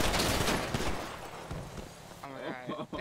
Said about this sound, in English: Oh my god, they're shooting.